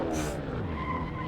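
A race car in Assetto Corsa sim racing, an Audi TT Cup car at Brands Hatch, skids with a short screech of tires and engine noise during a crash, loud and brief with no talk.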